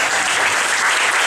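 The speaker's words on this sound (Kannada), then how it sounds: "ಎಲ್ಲರೂ ಸೇರಿ ಗೌರಿ ಮೇಡಮ್ ಅವ್ರಿಗೆ ಒಂದು ದೊಡ್ಡ ಚಪ್ಪಾಳೆಯನ್ನು ಕೊಡೋಣ." Loud, dense applause from an audience at a women's festival Yakshagana performance, a continuous crowd of clapping hands with no talk over it.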